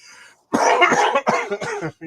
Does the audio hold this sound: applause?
no